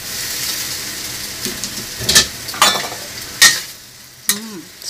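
Pasta tossed into a pan of creamy carbonara sauce, a soft continuous sizzle with several sharp scraping stirs and clanks of a utensil against the pan, close by.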